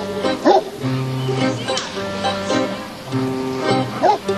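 A working dog barks several times in short yips and whimpers, spaced irregularly, close by.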